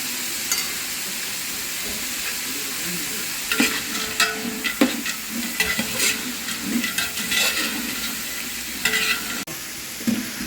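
Vegetables sauté with curry leaves in a pan, an even, close sizzle of frying under periodic scraping and stirring strokes that grow busier partway through, with no voices.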